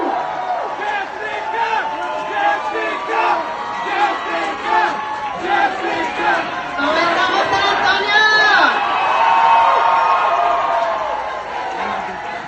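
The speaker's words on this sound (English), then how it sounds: "Jay Cisneros gets a warm welcome from the crowd, first to speak at the rally." Rally crowd cheering and chattering in a warm welcome, a loud dense roar of many voices with rhythmic chanting, swelling in the second half.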